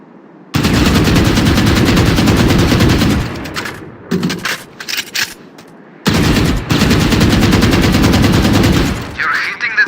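Rapid automatic gunfire from the video game Valorant on a target range comes in two long, loud, continuous bursts, with short scattered shots in between.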